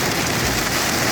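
Heavy rain pours down steadily in a dense, loud wash of noise during a storm with intense lightning and flooded roads in Nebraska.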